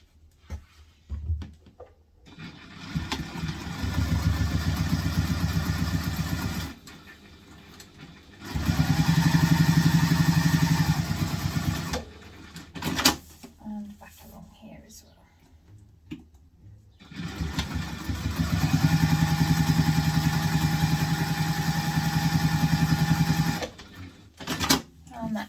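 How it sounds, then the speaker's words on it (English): A sewing machine top stitches along the outside edge of a fabric backpack tube, running in several long steady whirring bursts separated by pauses, with a person speaking in between. "Now I'm going to top stitch that along the outside edge."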